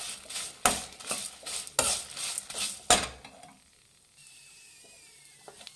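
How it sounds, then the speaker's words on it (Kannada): Bisi bele bath spices are fried on a low flame, with rhythmic stirring scrapes against the pan over a faint sizzle. The stirring stops and a quiet hiss remains. "ಲೋ ಫ್ಲೇಮಲ್ಲಿ ಇಟ್ಟು ಇದನ್ನು ಫ್ರೈ ಮಾಡಬೇಕು ಫ್ರೆಂಡ್ಸ್."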